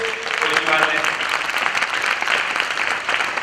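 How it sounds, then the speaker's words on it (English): Audience applause at a graduate sales bootcamp conference, a steady dense wash of clapping holding at even volume throughout, with faint voices mixed underneath. "let's give her another big round of applause for this man"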